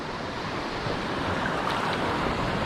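Ocean surf breaking along the edge of a reef, a steady loud wash of water with wind buffeting the microphone, continuous for a few seconds with no voices.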